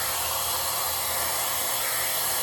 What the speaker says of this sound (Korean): 이렇게 이제 머리를 모았으면은 드라이기 켜주시고요